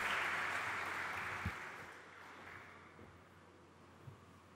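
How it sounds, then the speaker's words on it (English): Audience applause at a corporate wealth creation study presentation, a dense wash of clapping that starts loud and gradually fades, heard from within the hall. "another round of applause is due for the 22nd unbroken record of studies"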